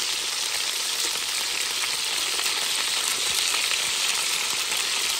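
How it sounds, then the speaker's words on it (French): Onions fry in a pan for a chicken curry with chayote, giving a loud, steady, hissing sizzle close by that runs unbroken throughout. "Maintenant, je vais incorporer les oignons. Je mettre les oignons dedans."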